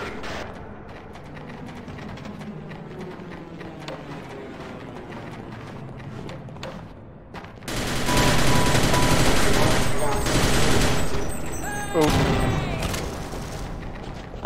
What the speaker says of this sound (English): All out warfare from the sound of it.